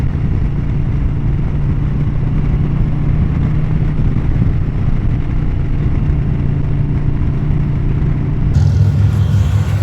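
A Harley-Davidson Pan America motorcycle being ridden, its engine giving a steady, continuous low rumble with wind noise throughout, close and loud.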